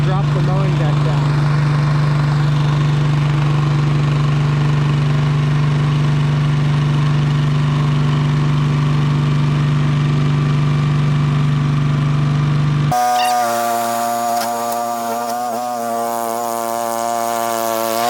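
RC tracked lawn mower engine running loud and steady with a strong droning hum, then cutting to a quieter, tonal whine with a voice talking over it.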